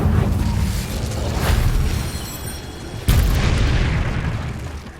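A fire spell cast in the video game Hogwarts Legacy: a muffled rumbling blast that builds through the first seconds, then a sudden sharp burst near the middle followed by a roaring, fading whoosh.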